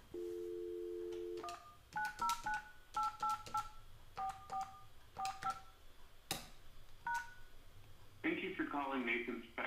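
Telephone dialing tones calling back into a phone system: a steady dial tone, then a quick run of separate keypad beeps in short groups, followed by a brief chirp and ringing-like tone.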